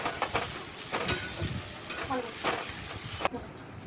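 Chicken sautés in a pan with garlic paste and dried red chilli paste: soft sizzling runs under intermittent scraping stirs, with a voice faintly present.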